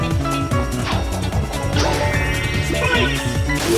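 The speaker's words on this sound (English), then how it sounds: "Break all these blocks." Blocks shatter in quick succession in the Wii game Sonic Colors, a run of loud crashes and thwacks layered over busy game music throughout.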